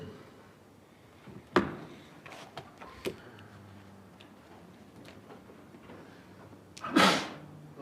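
A single sharp sneeze bursts out in a council meeting room, with a second loud sneeze-like burst several seconds later, among quiet room noise, light clicks and paper sounds.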